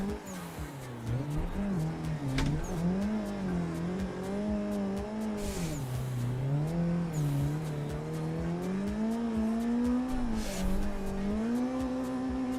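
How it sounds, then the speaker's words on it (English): Street car drifting in Assetto Corsa, its engine droning and revving up and down in continuous waves while tires squeal steadily beneath, loud and sustained throughout. "One hand drifting."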